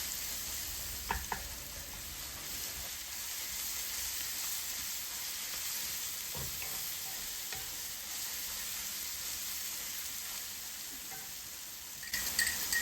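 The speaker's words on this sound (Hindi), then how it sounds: "इस लहसुन को बहुत अच्छी तरह से फ्राई करना है, कच्चा बिल्कुल ना रहे।" Garlic and ginger fry in a pan with a steady, soft sizzle, broken by a few faint clinks from stirring, with no voices.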